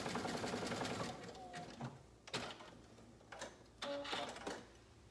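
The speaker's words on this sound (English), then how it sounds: "I'm going to overlap my elastic and zigzag it closed to form a circle" A sewing machine zigzag stitches overlapped elastic closed into a loop, giving short bursts of rapid mechanical whirring and clatter separated by pauses and soft handling noises, close but quiet.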